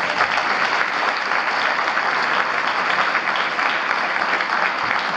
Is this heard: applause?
yes